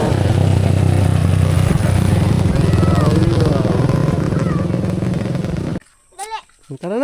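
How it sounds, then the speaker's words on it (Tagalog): A large group of motorcycles on a group ride passing along a roadside, their engines forming a loud continuous roar with clatter that cuts off abruptly near the end, with voices talking over it. "Ang daming motor oh."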